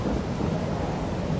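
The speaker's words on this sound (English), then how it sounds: "Now there's rain." Heavy rain and rolling thunder in a video game form a dense, loud, continuous roar that fills the short stretch without a break.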